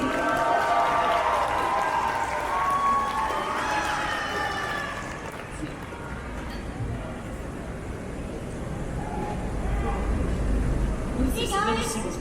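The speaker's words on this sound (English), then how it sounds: "Give me a big round of applause for Kira Buckman, Kaylee Mills, Sean Chiplock, Brianna Knickerbocker," Crowd applause at an Animanga 2019 convention panel for the Re:Zero English voice actors, a broad steady roar of clapping and cheering that fills the room and gradually thins toward the end.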